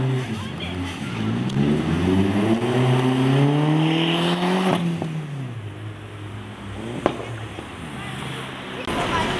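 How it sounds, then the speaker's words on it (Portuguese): A first-generation Audi TT MK1 accelerating past at Praça da Espanha in Curitiba, its engine note climbing in pitch as it nears, then falling and fading as it moves away, with someone talking over it. "Olha aí o Audi TT de primeira geração. Ou MK1 acelerando."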